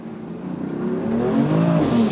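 BMW M4 launched hard on a straight with wheels spinning, its engine note rising steadily and growing louder as the car accelerates, heard from inside the car with no talking.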